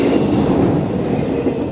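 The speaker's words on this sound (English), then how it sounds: "This train is on track," A train rolls past on a two-track main line at Nortonville, Kentucky, a steady loud rumble of railcars with faint wheel clatter and light squeal, continuous and close throughout.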